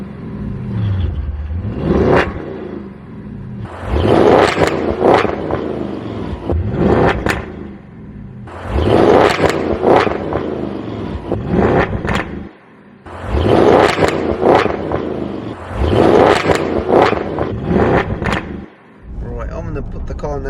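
An Audi S8 D4 in dynamic mode with the gearbox in S, driven hard on a country lane: the engine surges and revs in repeated bursts, climbing through gears with brief lifts and drops between pulls, loud and close throughout.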